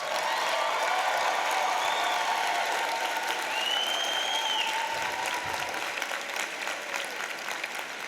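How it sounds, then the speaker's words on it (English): Sustained applause from a large crowd at a law school graduation, steady and loud throughout, with a few faint whoops rising above the clapping. "Graduates, can we give them one more round of applause?"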